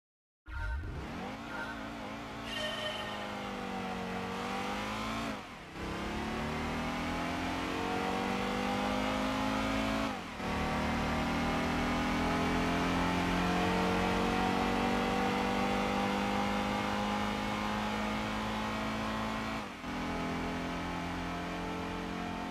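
Race cars in a PlayStation 1 arcade racing game roar continuously, engines revving up and shifting through gears with rising and falling pitch, loud and up close, with no talk.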